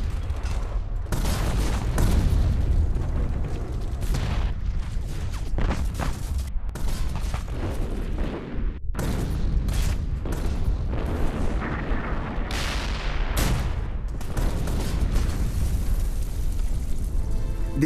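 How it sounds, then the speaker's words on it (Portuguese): Dawn artillery barrage at a World War II beachhead in Italy, a dense, continuous roar of booming blasts and overlapping explosions rolling on for the whole stretch, loud and close with no voices. "Eles lançam o ataque ao nascer do dia, uma barragem de artilharia escaldante."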